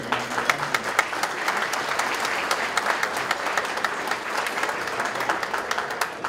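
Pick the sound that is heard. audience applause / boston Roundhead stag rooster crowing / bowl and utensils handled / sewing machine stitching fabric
audience applause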